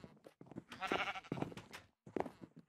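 Small flock of sheep led through a little gate at a farm, bleating repeatedly at close range in short, uneven calls with brief pauses, no talk over them.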